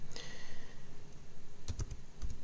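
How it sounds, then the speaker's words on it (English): Quick keystrokes on a computer keyboard type a Linux command, a short run of soft clicks followed by a few sharper taps. "we have to type in again sudo and systemctl"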